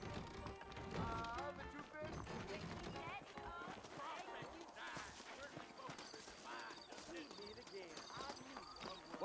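Horse hooves clip-clop through a Red Dead Redemption scene on PS5, mixed in with game music and other game sounds while characters talk over them.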